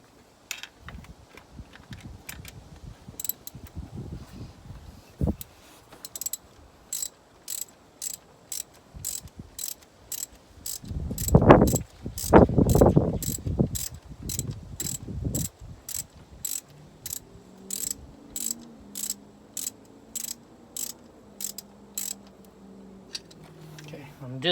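A hand ratchet snugs an exhaust manifold bolt on a Mini Cooper S R56, giving long runs of quick, evenly spaced clicks. Between the runs come a burst of louder clanking and some talk.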